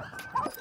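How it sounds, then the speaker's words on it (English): Puppies whimpering close by, short high whines and yips in a quick brief burst rising at the end. "I'm talking about the puppies."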